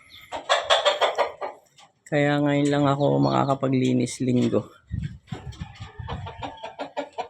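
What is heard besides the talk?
chickens clucking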